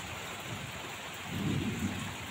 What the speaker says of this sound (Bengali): এই যে দেখো আমার বাইরেটা বৃষ্টি হচ্ছে, দেখতে পাচ্ছ?